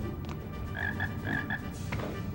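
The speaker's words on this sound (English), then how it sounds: "Large frog. Really do be beefy." A large frog in the Jersey Devil video game, NTSC-J version, croaks several times in a quick throaty rhythm over a steady low game background, with no talking.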